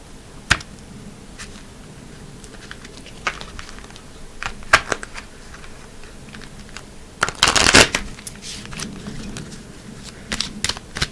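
Romance angel cards being shuffled by hand, with scattered close flicks and riffles through otherwise quiet stretches and a denser burst of shuffling midway.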